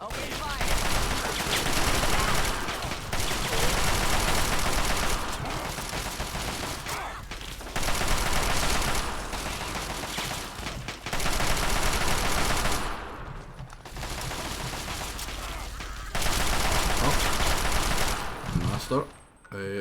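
Fallout 3 gunfire comes in long sustained bursts of rapid automatic shots, loud and close, separated by brief silent gaps, with a voice heard over some of the firing.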